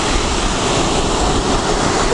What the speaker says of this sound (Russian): Волна сильнючая.